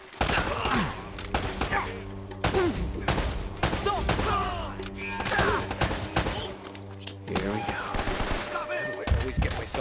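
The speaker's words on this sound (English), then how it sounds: "Shotgun right off the bat." Shotgun blasts and other gunfire ring out in the video game Uncharted: Drake's Fortune, sharp loud reports repeating every second or so over a steady musical and ambient game bed.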